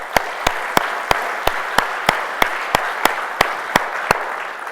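Audience at a DNNWorld 2012 conference keynote applauds an event organizer: steady, dense clapping from a large room, punctuated by sharp, evenly spaced louder claps throughout.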